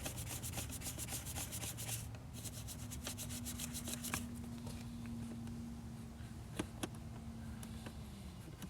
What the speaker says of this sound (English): give the AC vents a good scrubbing.